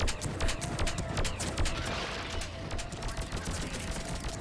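Rapid gunfire bursts from the video game Mass Effect 3, dense overlapping shots and a loud fusillade over a steady roar of battle, continuous throughout.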